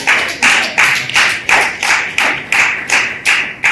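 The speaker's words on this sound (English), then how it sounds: "Give me a big round of applause for that." An audience at a celebration honoring a president gives rhythmic applause, loud close claps in a regular steady beat of about two per second, with no talking over them.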